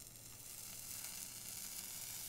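A flat iron sizzles as it presses over a section of wet hair, a steady, close hiss that holds evenly through the whole stretch with no talk over it.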